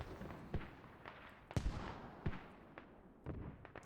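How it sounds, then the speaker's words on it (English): Distant artillery fire in a war video game: several sharp booming blasts at irregular intervals, about four or five over a few seconds, fairly faint against a steady rumbling background. "Oh, there's a counter artillery."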